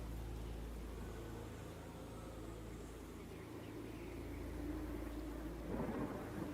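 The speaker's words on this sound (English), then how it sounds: "As we continue to hear the thunder cracking" Deep, rumbling thunder rolls through a storm in a forest setting, a steady low drone that swells near the end as a louder crack breaks through, with no voices present.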